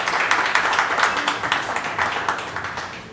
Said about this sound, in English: give yourselves a round of applause as well for you all investing in being here